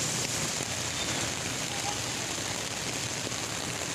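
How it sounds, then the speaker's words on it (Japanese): Heavy rain pouring down outdoors beside a street food stall, a dense, even hiss of falling water that fills the whole stretch with no pauses and no voices. "雨もちょっと激しくなってきましたね。"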